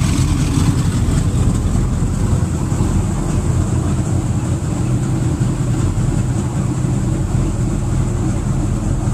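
Mercury-equipped boat engines run at idle alongside a dock, a heavy, constant low-pitched drone heard close up and unbroken for the whole stretch.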